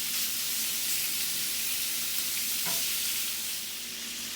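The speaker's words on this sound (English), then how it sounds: "beef sausage. So I'm just going to let it just brown a little bit." Beef sausage browns in a frying pan for jambalaya with a steady, even hiss and sizzle, fairly quiet and continuous with no talk.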